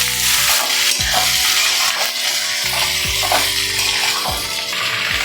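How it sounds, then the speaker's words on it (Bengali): Taruli frying in a pan for a kudli fish-head dish, a steady loud sizzle with hum and scraping stirs recurring throughout. "তরুলিটা দিয়ে আমি ভালো করে একটু ভেজে নেব"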